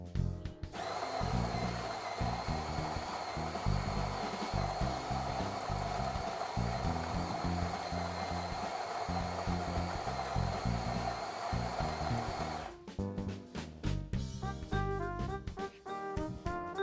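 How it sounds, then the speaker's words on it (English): A smart espresso machine's built-in grinder grinds coffee beans with a loud, steady, whirring buzz for about twelve seconds up close, then breaks into uneven, clattering mechanical sounds. "The grinder is very fast and does a great job."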